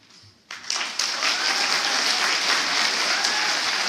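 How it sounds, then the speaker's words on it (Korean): An audience at a Seoul party academy lecture breaks into loud, steady applause about half a second in, sustained and dense until the end. "오늘 좋은 말씀해 주신 정청래 최고님께 큰 박수 부탁드리겠습니다."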